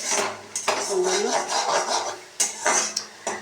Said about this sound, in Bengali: ইডলি ভাজা হয়ে গেছে এটা মশলা কষিয়ে নিচ্ছি